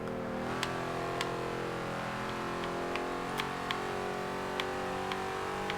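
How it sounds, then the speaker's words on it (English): Small-block V8 of a 1988 Chevrolet Monte Carlo SS in the Forza Horizon 2 racing game, holding a steady high-RPM drone with layered harmonics and brief sharp clicks at intervals, alone with no talk. "I just love the sound of this small block and high RPMs"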